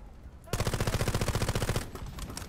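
A loud, fast burst of automatic rifle fire in Delta Force Hawk Ops, roughly a second and a half of evenly spaced shots close up, then quieter game ambience.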